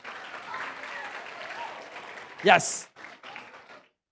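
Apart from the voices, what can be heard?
parents applauding at a school graduation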